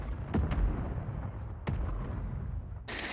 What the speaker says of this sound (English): Hostile mortar strike.